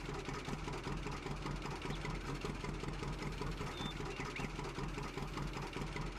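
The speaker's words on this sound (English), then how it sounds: "Doesn't help when the tractor is doing wheelies." A tractor engine running in Farming Simulator 19, a steady, even mid-low drone with no change in pitch throughout.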